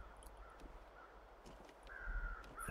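Crows caw faintly in The Long Dark, a few short calls with a louder one near the end over a quiet wind-like background.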